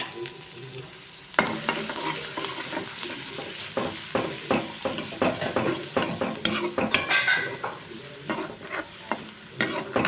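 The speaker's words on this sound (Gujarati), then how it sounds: "ડુંગળીને હું ગોલ્ડન બ્રાઉન સુધી એને હું ચડવા દઈશ" Onion fries in a pan while a spoon stirs it, with repeated scraping and clinking strokes against the metal over a continuous sizzle, close and fairly loud.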